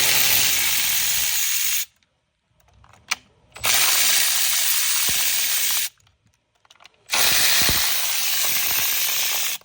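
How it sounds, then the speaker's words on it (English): A battery ratchet whirs in three long, loud, steady bursts removing 10mm bolts on a 2018 BMW 540i during an oil filter housing repair, with quiet gaps and small clicks between runs. "Now it's time to take these 10mm bolts out."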